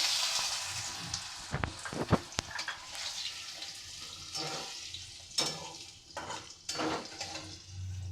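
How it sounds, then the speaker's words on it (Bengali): Potatoes frying in a pan with bay leaf, cumin and spices: a soft continuous sizzle broken by several sharp clanks and scrapes of a spatula stirring against the pan, close up, with no talking. "আমি এই আলুগুলো ভাজতে দিলাম"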